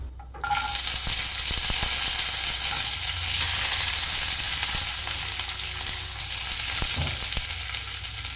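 Peanuts and panch phoron with bay leaf sizzle steadily in hot oil, a loud continuous fry that jumps up as they hit the pan and holds under occasional stirring clinks.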